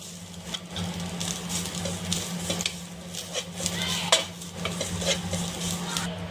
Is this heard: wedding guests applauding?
no